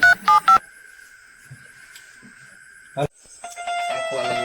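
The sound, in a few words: telephone dialing tones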